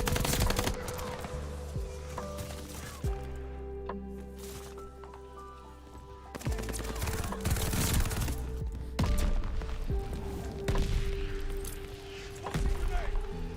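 Mortar barrage and gunfire in a PC shooter game, with repeated sharp explosive bursts over steady game audio and a voice talking throughout.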